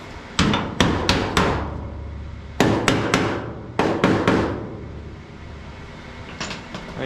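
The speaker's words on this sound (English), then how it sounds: "Body hammer." Sharp metallic hammer blows from a body hammer on a car panel while building a 1964 Progress A-pillar, struck in quick clusters of three or four with ringing decay, close and loud, with a few lighter taps at the end.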